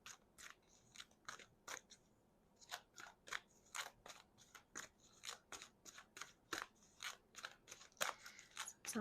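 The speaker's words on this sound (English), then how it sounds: "it takes me a while to adjust when it comes to shuffling the larger decks" Rapid bursts of crisp card riffles repeat steadily, each a short papery flutter, close and fairly quiet with brief pauses between.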